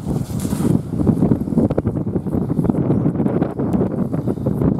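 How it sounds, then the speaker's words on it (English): Wind blows on a beach during metal detecting and roars into the microphone in uneven buffeting gusts, loud and close throughout, with brief rustling bursts. "It's actually very windy, and apologising for the wind."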